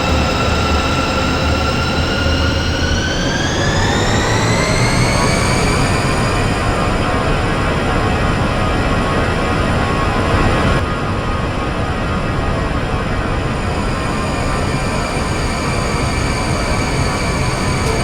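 Airbus A320-200 with CFM engines spooling up for a rolling takeoff in the Aerofly FS Global flight simulator: a loud, steady jet roar whose whine climbs in pitch over the first few seconds, then holds a sustained high thrust tone.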